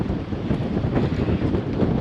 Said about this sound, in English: really going fast now. Good sailing, downwind sailing.